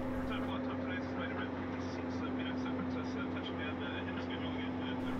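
Cabin noise aboard a QantasLink Boeing 717 airliner cruising at 36,000 feet, a steady low engine and air drone with a constant hum beneath, while a person talks over it.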